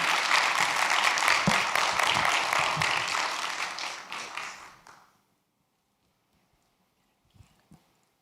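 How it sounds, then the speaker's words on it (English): An audience at a youth network awards livestream claps warmly for an award recipient, a dense steady applause that fades out after about five seconds into near silence, with a couple of faint knocks afterward. "Everybody give Jacqueline a warm applause here"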